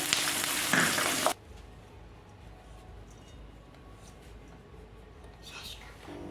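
Peanuts and green chillies hit hot oil for sabudana khichdi with a loud, hissing burst of sizzle that cuts off after about a second, leaving a faint low crackle and quiet background afterward.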